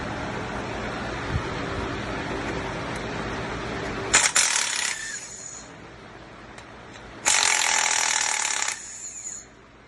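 Two bursts of a pneumatic impact tool loosening the 15mm tensioner bolts on a 2007 Chevy Trailblazer SS engine during water pump work, each roughly a second long, loud and close over a steady hum in the shop.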